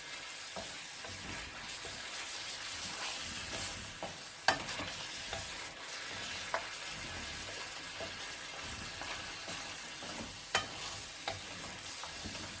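Caramelized Hong Shao pork ribs sizzle steadily in a pan as the sauce reduces, a bright continuous bubbling hiss with occasional soft clicks and taps, and no voices.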